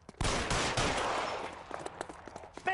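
Gunfire from the video game L.A. Noire: a loud opening burst of several shots, then scattered fainter cracks and a final sharp report, alone with no talk.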